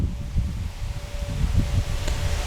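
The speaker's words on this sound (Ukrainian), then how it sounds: "вітер здійнявся такий, не знаю, чи запишу" Gusty wind buffets the microphone, producing a continuous low rumbling roar with rustling bursts throughout.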